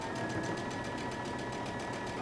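A sewing machine runs steadily while stitching close to the edge of a dress hem, a fast, even mechanical whir with rapid rhythmic needle ticks, close and unbroken.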